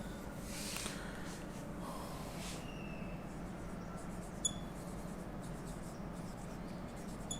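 Marker or pen writing on a chart board, a steady scratchy stroking that runs close and continuous throughout, with a few brief squeaks, heard alone with no talking.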